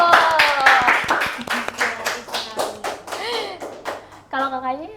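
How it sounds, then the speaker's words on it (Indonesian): A small studio audience at an Indonesian talk show gives a short round of scattered, close hand claps, mixed with voices talking over and after it. "Kasih tepuk tangan dulu"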